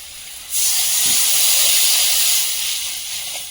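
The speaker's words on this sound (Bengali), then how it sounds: "এই তো মশলাটা ভেজে নিয়েছি এখন জল দিয়ে দেবো" Water is poured into hot fried spices in a pan for a Bengali fish curry, giving a sudden loud, sustained sizzling hiss that slowly fades over a few seconds.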